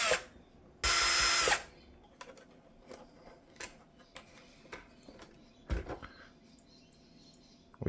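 A power tool unscrews fasteners from an Ecovacs Deebot 950 robot vacuum with a stopped-working fault, one loud close burst of driving followed by small clicks and handling taps of screws and plastic parts.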